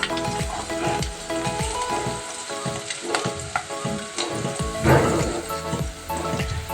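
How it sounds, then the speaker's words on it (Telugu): Plain noodles with chilli flakes fry and are stirred in a hot pan, a loud, close, continuous sizzle broken by repeated scraping strokes of a utensil. "ఇది బాగా ఫ్రై చేసుకుందాం."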